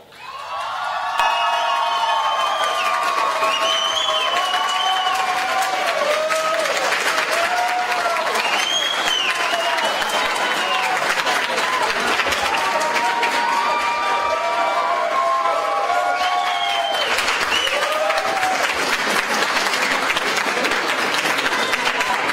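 Audience at a science slam event in Moldova applauding, sustained loud clapping from a full hall with cheers and whoops rising above it, while voices call out over the noise.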